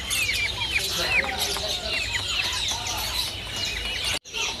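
Caged beranjangan bushlarks call at a bird shop, with repeated bright chirps and warbling phrases over a busy, noisy room background, close and continuous.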